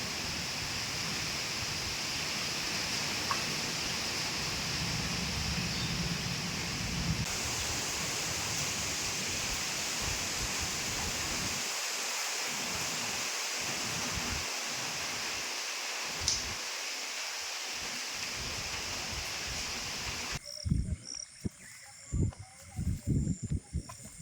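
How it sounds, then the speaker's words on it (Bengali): Heavy rain pours in a constant wash of noise with wind, heard from a distance, with some low bumps and knocks near the end. "বৃষ্টি যেহেতু প্রচুর পরিমাণের, বাতাসও আছে"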